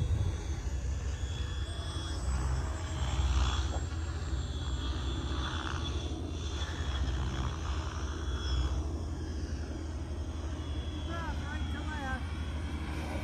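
An FMS RC model jet flies a loop at an RC airfield, its engine whine rising and fading in the distance over steady outdoor background noise.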